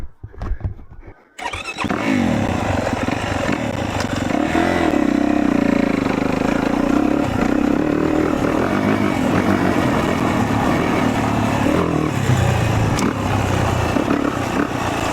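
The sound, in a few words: Yamaha YZ450F dirt bike riding on sand track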